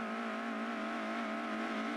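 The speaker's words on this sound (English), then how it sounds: "I really love the sound of the Europa, really, when it becomes a race car." A Lotus Europa in race-car trim from Gran Turismo 2 drones with a steady, buzzy engine note that holds high revs without a break, loud and unbroken, with no talk over it.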